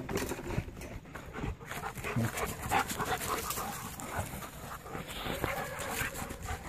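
A German Indian dog pants and whimpers softly nearby outdoors, with a continuous breathy rhythm over a noisy background and no clear speech.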